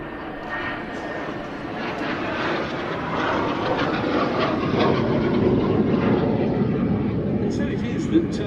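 Military jets approaching an RAF Mildenhall airfield for a break, a broad engine roar that builds slowly and holds steady at moderate distance, with a commentator talking over it.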